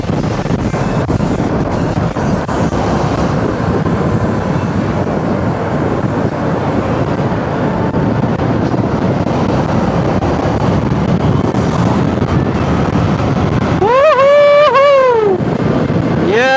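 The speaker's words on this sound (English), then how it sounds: "That amount of wind resistance isn't joking" Loud, steady wind roar buffets the microphone while riding a Yamaha MT-07 motorcycle in Malaysia, broadband rushing throughout, with a brief rising engine whine near the end.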